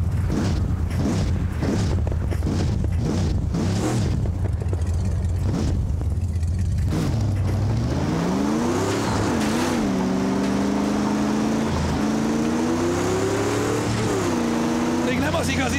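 Car engine in the Mad Max video game on PC, revving and rising in pitch after a stretch of rumbling and thuds, loud and close, with a voice speaking over it.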